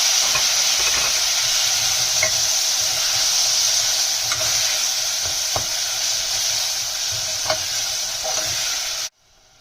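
Chopped tomatoes being stirred into a frying masala for a Sindhi black chana and potato dish, making a continuous loud sizzle with scraping spoon strokes, cutting off abruptly near the end.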